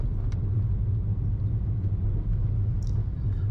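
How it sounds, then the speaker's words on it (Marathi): A car overtakes on the Mumbai–Goa highway in the Ratnagiri region, heard from inside as a steady, loud low engine and road rumble with no break. "पुन्हा एकदा आपण ओव्हरटेक करतो आहे"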